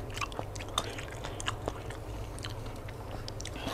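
Someone chews crunchy lotus stolons in a shrimp papaya salad, with repeated close crisp bites and wet mastication sounds over a faint low hum.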